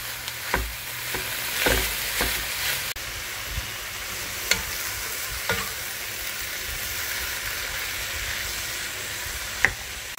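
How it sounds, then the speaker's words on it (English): Minced beef sizzles steadily in a frying pan, with occasional scrapes and taps of a utensil breaking it up, close by and with no talking. "time to add our ground beef or minced beef, and then you just want to"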